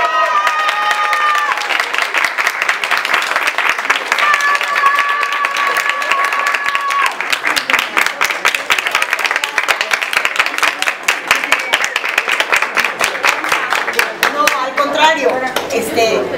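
Sustained applause from an event audience welcoming journalist Mónica Garza at a theatre plaque unveiling, dense steady clapping throughout with cheering, a voice emerging near the end.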